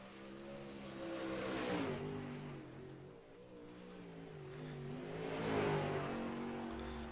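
A dirt modified race car lapping USA International Speedway, its engine note rising and falling as it passes twice, heard faint and from a distance with a broad hiss of dirt and crowd noise.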